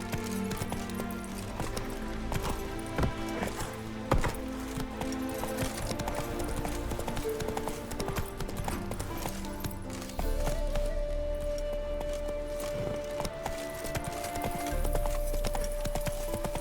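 Roach, a horse in The Witcher 3: Wild Hunt, galloping steadily with fast, close clip-clop hoofbeats over a continuous bed of game music and ambience.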